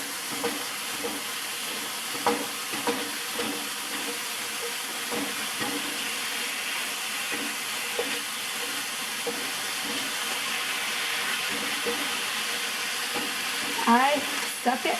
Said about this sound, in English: I suck at browning ground beef and I hate doing it